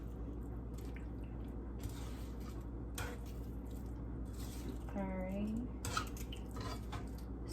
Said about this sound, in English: when I put this to cook, I am going to add some water into it